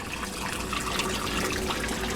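Hot water runs steadily from a kitchen tap, a constant close hiss and splash that holds an even level throughout without pause or speech.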